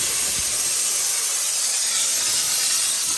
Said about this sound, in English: Let's shoot some steam inside the car.